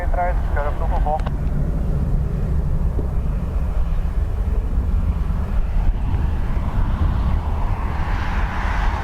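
A twin-turboprop Antonov AN-26B departs Dublin Airport. A constant heavy engine drone and wind rumble fill the scene, with a brief radio voice at the start and the roar shifting higher as the aircraft rolls away.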